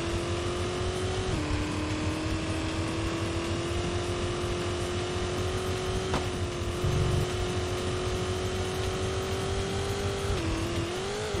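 A racing car engine in the Sports Car GT video game holds a steady high drone, shifting pitch with brief drops at gear changes, accompanied by a low pulsing beat of background music.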